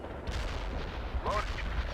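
Artillery fires in the video game World in Conflict, a steady heavy rumble of battle with booming shots over a continuous low roar, plus a brief whistling streak near the middle.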